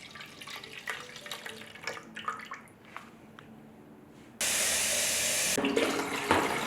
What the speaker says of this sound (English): We're going to put only 3 cups of water in there.